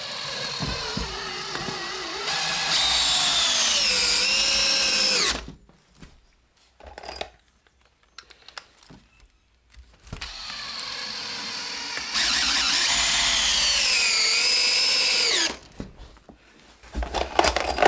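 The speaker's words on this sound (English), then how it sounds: "we're going to come in with some big, long, heavy screws so that we can get all the way down through the subfloor" Power drill driving long, heavy screws down through a mobile home subfloor into the rim joist, two loud sustained whining bursts of several seconds each with a pitch sag, separated by quiet handling noise.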